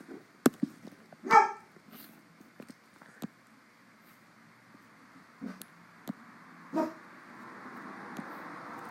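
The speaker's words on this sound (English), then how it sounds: "You hear my dog in the background?" A dog barks once or twice and gives a few short whimpering sounds somewhere in the background of a quiet room, faint and intermittent among scattered small taps and clicks.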